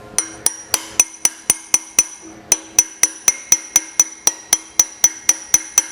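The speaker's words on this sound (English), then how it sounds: "it may sound like I'm hitting this hard, but I'm not really hitting it hard." Steady run of light hammer taps on a drift pin in a Maytag 72 engine rebuild, sharp ringing metallic strikes at a brisk even pace, close and fairly loud, with one brief pause near the middle.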